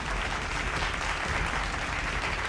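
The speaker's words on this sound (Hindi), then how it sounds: "एक बार जोरदार तालियां हो जाए उनके लिए" Dense, steady applause from an event audience at an awards ceremony, a continuous wash of many hands clapping at fairly even loudness throughout, with no voices over it.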